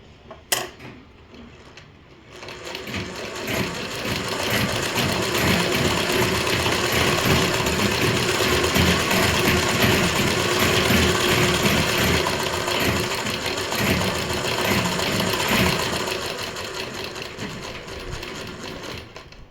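A sewing machine stitches the pico edge of a saree, a dense steady mechanical whir with rapid needle chatter that starts after a brief pause and runs continuously for most of the stretch, with no talking.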